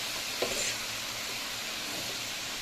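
Bean sprouts and tofu sizzle in a hot pan while being stirred, a steady close frying hiss with a brief clatter of the utensil near the start.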